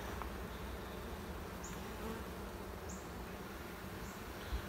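Honey bees buzz steadily in an opened hive with a queen excluder and a honey super on top, a dense continuous drone close by with a few louder passes of single bees and no talking.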